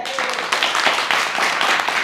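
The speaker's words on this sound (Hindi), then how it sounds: "तालियां उनके लिए" Students in a government school classroom in Uttar Pradesh clap for classmates, a dense, steady patter of many hands that fills the room at moderate loudness throughout, with no clear voices over it.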